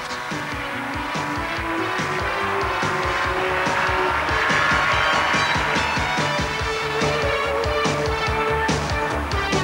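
Modified BMW and Ford Sierra race cars lap a wet circuit in a 1992 South African series, engines droning loud and steady with tire hiss and spray over distant crowd noise.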